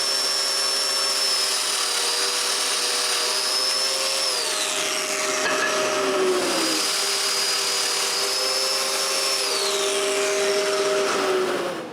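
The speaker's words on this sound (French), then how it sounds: "Et je les perce" Power tool whines loudly and steadily while mortises are cut into walnut parts for a clock box, with two gradual pitch drops under load and a sudden stop at the end.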